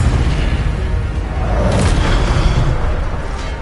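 Spell impact in Hogwarts Legacy: a dense, loud booming burst with a rushing whoosh, sustained through the whole stretch as heavy low rumble, with no talk.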